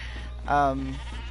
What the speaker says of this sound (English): I've actually upgraded the Sheepinator to where I get these black goats